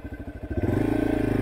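A motorcycle climbs an off-road trench trail at Twin Peaks among loose rocks. The engine chugs in uneven pulses, then settles into a louder, steady throb, close and without voices.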